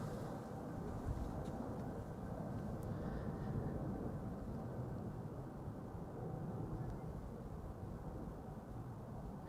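An ITA Airbus A321neo airliner departing Amsterdam Schiphol Airport gives a steady, distant engine roar, fairly faint and continuous throughout.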